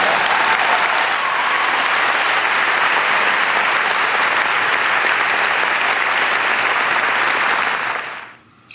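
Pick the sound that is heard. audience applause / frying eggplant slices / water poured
audience applause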